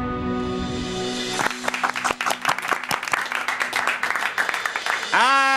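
An audience bursts into applause at an award ceremony as trophies are handed out, many claps crackling densely for several seconds, with a tonal musical sting before the clapping and a sweeping sound effect at the end.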